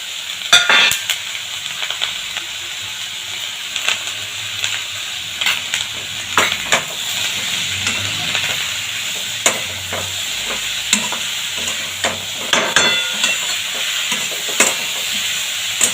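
Mushrooms sautéed in a pan with salt, a continuous sizzle broken by frequent clicks and scrapes of the spoon stirring, close and fairly loud with no talking.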